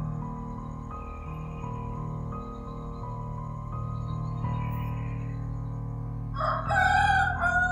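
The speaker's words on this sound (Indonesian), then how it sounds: "Suara ayam." A rooster crows loudly near the end, a strained rising call over a steady background hum of music-like tones.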